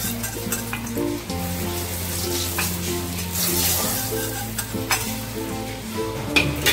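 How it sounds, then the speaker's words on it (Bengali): Eggplant slices for doi begun sizzle steadily in hot oil, a close, continuous frying hiss with occasional louder spits and crackles. "আবার আমি বাকি বেগুনগুলোকে একইভাবে ভেজে নেব"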